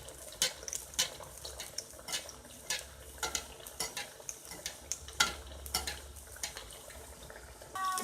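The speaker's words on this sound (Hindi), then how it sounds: "अब हम इसमें समोसे डालकर तलेंगे।" Samosas deep-fry in hot oil in a kadai with a low bubbling sizzle under frequent clinks and scrapes of a ladle against the metal pan, sounding close and uneven.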